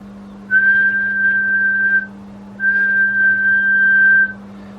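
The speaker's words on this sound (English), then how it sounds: "if I whistle into this" Two long steady whistled tones, each about one and a half seconds, sung into a Sadelta desk microphone feeding an Amstrad 901, clear and close over a constant low electrical hum.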